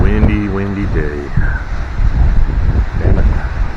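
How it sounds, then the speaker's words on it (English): Strong gusting wind on a stormy day in the Bay Area, a loud roaring rush buffeting the microphone, with a voice briefly heard over it. "Windy day."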